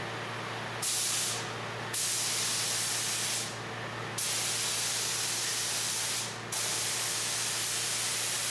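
Spray gun nozzle spraying EkoFill coating onto an aircraft wing, a loud steady hiss in long bursts broken by short pauses, close by and with no talking.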